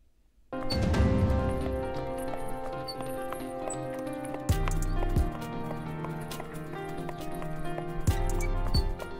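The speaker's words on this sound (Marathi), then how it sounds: "कानावर घोड्यांच्या टापांचा येणारा हा आवाज साधा सुद्धा नाही" Horse hooves clip-clop steadily and close by at the Sarangkheda horse market, with a few heavier thuds breaking into the rhythm.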